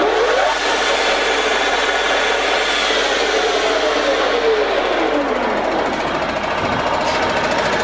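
A Stankoimport IK62 lathe runs at its top speed of 1250, with a loud, continuous mechanical whirring and grinding drone. A gear whine sweeps in pitch, heard close and alone.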